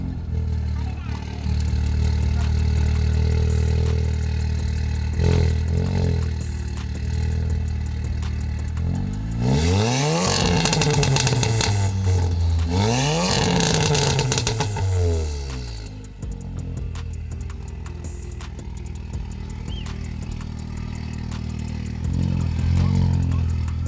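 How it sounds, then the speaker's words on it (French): A Volkswagen Golf R with a stage 2 tune and over 370 horsepower rumbles at idle from the rear exhaust, then is revved twice in quick swelling sweeps before settling back to a deep, steady burble. "Je vais me placer à l'arrière, comme ça vous avez le bruit d'échappement directement."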